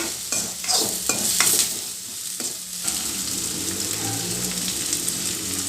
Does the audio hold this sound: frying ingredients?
yes